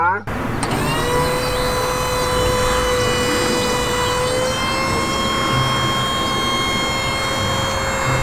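A toy fire ladder truck sounds a loud, steady electronic siren, a sustained whining tone that rises at the start and holds throughout.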